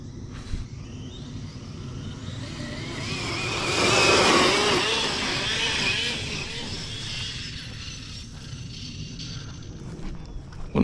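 A Losi 5ive B large-scale RC car drives through wet grass, its motor whirring and swelling near the middle before easing off, with no one talking.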